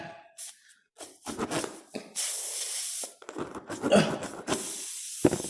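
Glue being sprayed to vulcanize a repair, several short hissing spray bursts close by, separated by gaps, with no talk.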